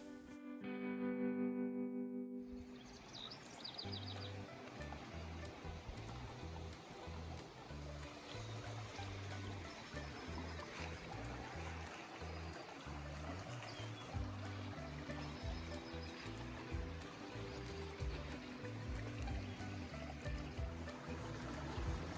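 Creek water flows by a campsite on a hike to Agua Caliente, a steady close rushing babble that continues throughout after a brief tonal sound at the start.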